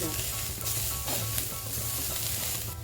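Radish sautéing with curry leaves in a pan gives a loud, dense sizzle throughout, with a few stirring scrapes on top and no talking.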